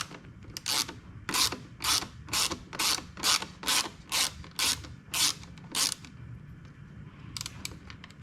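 A ratchet wrench clicking in about a dozen regular rapid bursts while undoing small bolts on a KTM 250 EXC rear fender plate, close and clear with faint background.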